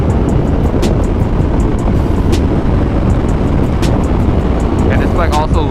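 A 2017 Honda CBR500R motorcycle engine drones loud and steady as the bike pulls harder in a lower gear, with heavy wind rush masking much of the detail.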